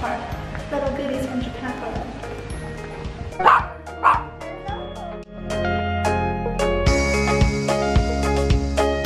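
A small puppy at a house in Taipei yips and barks in a few short bursts over steady household background noise and dinner-table chatter.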